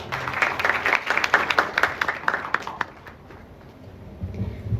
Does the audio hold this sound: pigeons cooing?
no